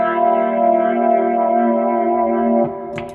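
Electric guitar run through a Rotary Ensemble pedal, sustained chords with a warbling, swirling modulation and echo, loud and steady for about two and a half seconds before dropping off into a fading tail.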